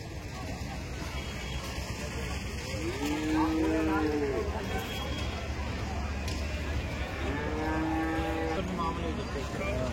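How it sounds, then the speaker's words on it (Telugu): Bulls and cattle at the Anantapur bull market give two drawn-out, low moos several seconds apart, heard over a steady wash of outdoor market noise. "ఇక్కడ మనం చూస్తున్న అనంతపురం ఎద్దుల సంత"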